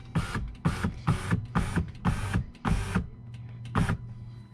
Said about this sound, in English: you're going to roll the window down.